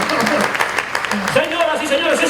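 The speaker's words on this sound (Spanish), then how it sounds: "¡Aplaudan fuerte para disimular!" Clapping from an audience at a children's birthday magic show, a dense, steady patter of many hands running throughout, with a voice speaking over it.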